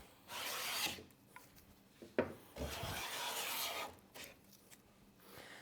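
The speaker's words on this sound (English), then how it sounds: "I'm taking overlapping cuts as I work my way across the board. And I'm getting these nice, feathery" A hand plane takes overlapping smoothing cuts across a wooden board, giving several rasping, swishing strokes of varying length, close and clear, with no talking.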